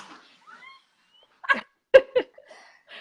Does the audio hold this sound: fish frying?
no